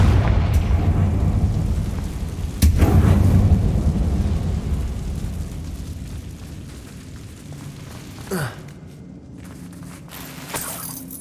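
In the video game Hogwarts Legacy, a Confringo blasting curse explodes with a loud sharp crack and deep rumbling boom, followed by smaller bursts and fading debris sounds over roughly ten seconds.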